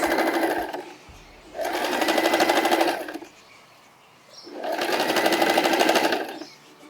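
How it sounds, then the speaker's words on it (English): A sewing machine stitches a zigzag seam in two long, steady runs of close whirring, each about one and a half seconds, separated by pauses of quiet. "And then I'm gonna sew all the way around. Zigzag stitch."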